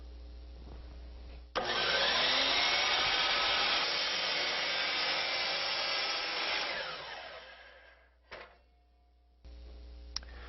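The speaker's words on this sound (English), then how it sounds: "we're going to cut a 45-degree angle on the end" A power saw cuts a 45-degree angle across the end of a piece of molding clamped flat to the fence, with a loud steady whine of several seconds that winds down, then brief motor bursts.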